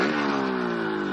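A motorcycle engine revs loudly and close for a moment, a steady buzzing drone that starts with a quick rise in pitch, with no talk.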